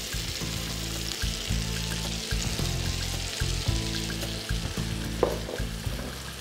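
Onion frying in a hot pan over pork curry, with a steady sizzle and occasional stirring scrapes close by, no talking.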